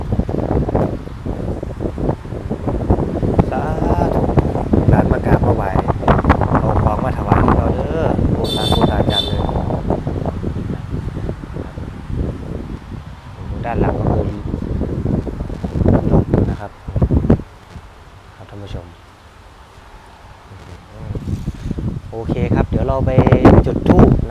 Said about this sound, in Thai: ลมค่อนข้างจะแรงเลยนะครับ